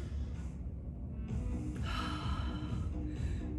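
A big breath drawn in during a beginner bodyweight workout's stretch, a loud close inhale rising over a few seconds with a soft whooshing texture, no talking.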